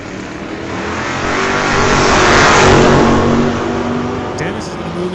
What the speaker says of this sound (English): Let's bring up Ralph Ehlers here in the 91 Mustang, taking on Dennis Winton in the 66 Bel Air over there.